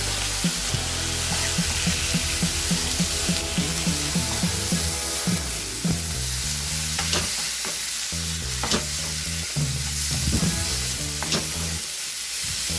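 Blanched shrimp and cauliflower stir-fry in a hot pan with oyster sauce and a little salt, a loud steady sizzle broken by scraping and tossing of the spatula throughout, with no voices.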